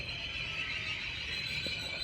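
Train brakes at a Copenhagen station let out a sustained high-pitched squeal, a steady shrill whine held throughout over low rumbling machinery, loud and close with no talking.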